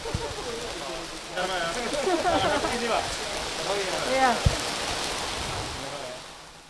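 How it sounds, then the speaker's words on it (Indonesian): Steady rain pours down at an outdoor community ceremony in Brumbung, Indonesia, a constant hiss filling the scene while voices talk faintly underneath. "Hujan."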